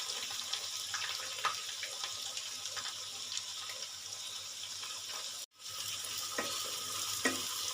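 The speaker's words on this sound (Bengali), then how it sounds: "পেঁয়াজগুলো আমি লাল লাল করে ভেজে নেব" Chopped onions fry in oil in a wok for mutton curry, giving a faint, steady hiss with soft stirring scrapes. The sound drops out briefly near the end.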